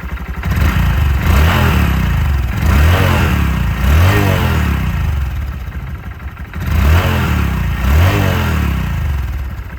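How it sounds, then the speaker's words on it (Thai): Honda Monkey motorcycle on its stock exhaust, about 300 km on the clock, revved several times in repeated rising blips over a steady, fairly smooth, quiet idle, heard up close with no talking. "เดี๋ยวลองฟังเสียงเครื่องกัน เสียงเครื่องเงียบมาก ๆ นะครับ เรียกได้ว่านุ่มๆเลยนะครับ"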